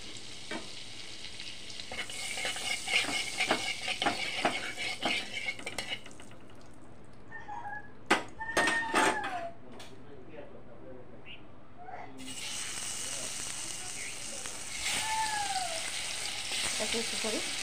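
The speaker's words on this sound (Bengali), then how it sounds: "এখন আমি এগুলি ভেজে নেব। অল্প সাদা তেল আর বাটার দিয়ে দিলাম" Chicken pieces fry in a pan with a little white oil and butter, giving a soft sizzle under scattered clinks and scrapes of a utensil against the cookware.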